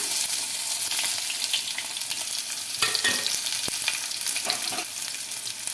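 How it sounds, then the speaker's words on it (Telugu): Cumin, mustard seeds and onions fry in hot oil with a steady close sizzle, while a few brief scraping stirs and clinks cut through midway. "ఇక్కడ ఆయిల్ పెట్టేసుకొని ఇంకా ఆయిల్ కూడా హీట్ అయిందండి. జీలకర్ర ఆవాలు అలాగే ఆనియన్స్ కూడా వేసుకుంటున్నా"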